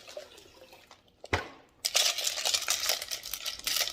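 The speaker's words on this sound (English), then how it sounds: "I'm going to dump just a little bit more water." Water pours into a 12 lb rock tumbler barrel being refilled after a weekly washout, a short splash followed by a louder, steady close-up gush that runs to the end.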